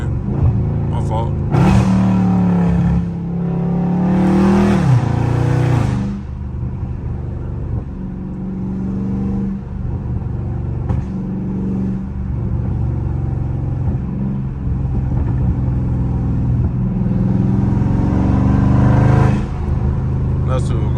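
A loud Dodge Scat Pack in traffic downshifts and revs hard, its engine note climbing and falling over a deep, steady rumble that carries through the whole stretch.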